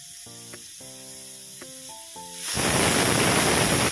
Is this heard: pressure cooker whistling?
yes